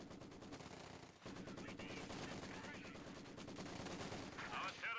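Maxim machine gun firing in the World War II strategy game Company of Heroes 2, a dense, sustained clatter of automatic fire mixed with other battle noise that runs unbroken for the whole stretch, with a brief dip early on.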